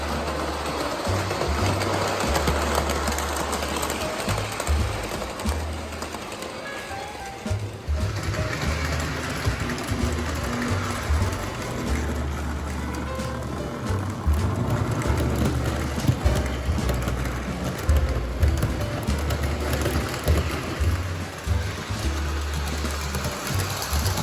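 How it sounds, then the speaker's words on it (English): Model train engines run continuously around a layout track, a steady low motor hum and rumble with rattling wheel noise that persists evenly throughout. "me applying power to the track and making sure that the engines that I have run perfectly throughout the layout"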